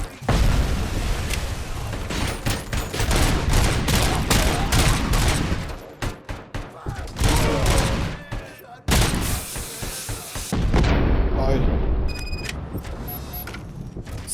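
A grenade blast and bursts of gunfire in the RoboCop: Rogue City video game make loud, dense rattling shots and heavy booms, broken by brief pauses before the firing resumes.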